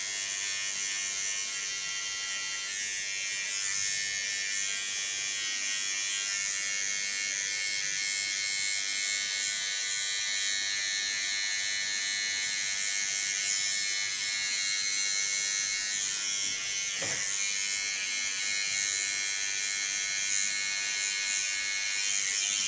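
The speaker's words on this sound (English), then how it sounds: "by holding my clipper real flat on the skin, you get the sharpest lines." A hair clipper buzzes steadily while shaving a nape and cutting hair tattoo lines, a continuous close electric hum with a brief tonal shift near the end, running alone without talk.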